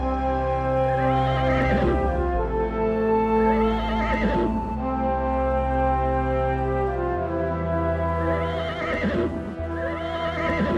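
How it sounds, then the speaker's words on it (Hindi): Several horses neigh and whinny loudly in repeated bursts, their hooves clip-clopping between the calls, close by with no talking. "अरे इतने सारे घोड़े किसके हैं?"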